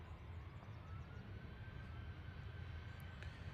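A Pakistan International Airlines Boeing 777 takes off at Manchester Airport, a steady distant roar of jet engines with a low rumble and faint whine, constant throughout.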